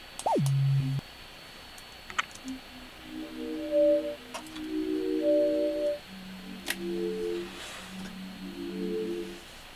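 Smeared, blurred synthetic tones drawn in SpectroDraw Pro, with a sliding tone at the start followed by overlapping sustained pitched bands that shift in steps, giving an eerie, hazy texture with no voices.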